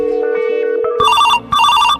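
A telephone rings in a Hindi comedy skit, its electronic ringtone sounding in two bursts after a steady sustained tone, loud and close with no talking over it.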